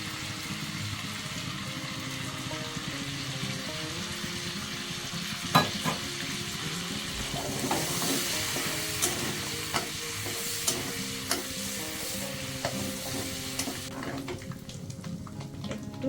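Cumin seeds, cardamom and cloves crackling in hot white oil, a continuous close sizzle with frequent spoon clinks and stirring taps against the pan, no talking.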